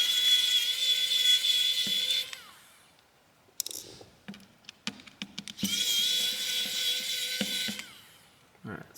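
A small electric screwdriver whines steadily while backing screws out of an AT&T Verge 2 5G phone motherboard, followed by scattered light clicks and taps of parts being handled, then a second long whine, all close and without talk.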